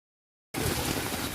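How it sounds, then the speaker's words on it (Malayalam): Rain falls near the Chaliyar river during two days of unbroken downpour, a steady close hiss of drops that starts abruptly after a moment of silence and holds at an even level. "രണ്ട് ദിവസം തോരാത്ത മഴ"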